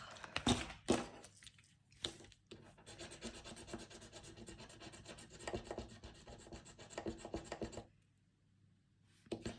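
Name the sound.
scratching a surface to check it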